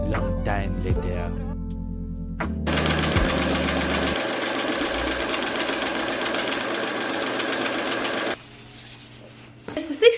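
Sewing machine stitching rows of gathered puff sleeves for an Arlecchino-style Carnevale dress, a steady rapid mechanical whir running several seconds and cutting off near the end, with soft handling noise and a low hum before it starts.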